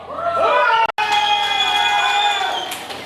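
Wedding guests let out loud shouts, whoops and piercing whistles, a brief gap, then a sustained burst of cheering and whistling that rings over the room before fading.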